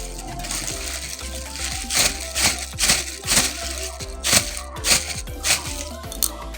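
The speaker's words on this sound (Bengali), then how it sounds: "তো চলো ঝটপট করে মাছগুলোকে ঢেলে নিই" Freshly caught fish tipped out of a bag into a container, with wet slapping, crinkling and crunching bursts that repeat in an uneven rhythm close by, along with a steady background hum.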